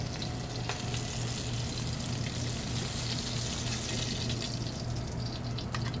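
Sesame-crusted ahi tuna sears in a very hot pan, a loud, steady close-up sizzle with constant crackling and no voices.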